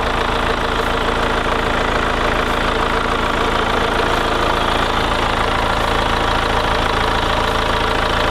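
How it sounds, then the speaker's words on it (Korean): A Hyundai Palisade 2.2 diesel SUV engine idles steadily, a constant low rumble with a slight knocking clatter, unchanging throughout and with no talking. "엔진 소리 일정하네요"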